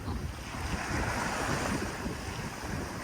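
A steady rush of wind and waves fills the air aboard a sailboat under sail at sea in an 18-knot breeze, with the engine off. It is a continuous broadband roar with some microphone buffeting and no voices.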